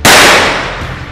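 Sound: 9mm Uzi shots hitting body armor

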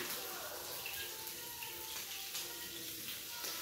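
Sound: running water to rinse while cooking

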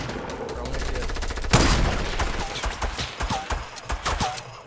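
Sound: gunfire from a distant enemy in the video game Fortnite

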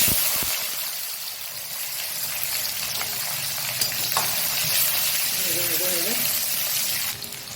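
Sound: onion frying in a pan

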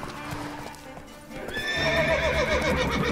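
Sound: horse neighing and galloping in video game

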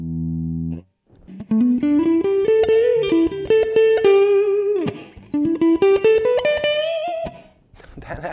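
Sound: guitar through Donner Cyclops mini amp, clean with reverb

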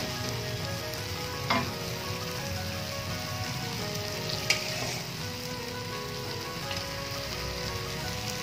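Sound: fish cooking with green chili in a pan

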